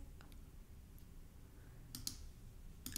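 A few faint, quick computer mouse clicks come in small bursts near the end over a low steady hum.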